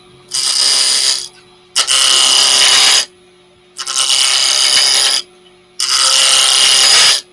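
A power tool spinning at about 2,000 rpm roughs down a gin glass in four loud, bright bursts of grinding, each roughly a second or more long, separated by short quiet gaps.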